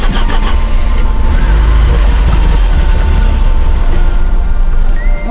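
Porsche 944 engine starting up on an off-road outing, a loud rough rumbling idle that holds steady close by, no talk.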